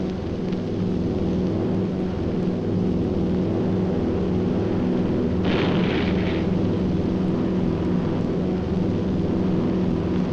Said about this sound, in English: the enemy knows the path of your approach and walls that path with a flak barrage, but you fly right through it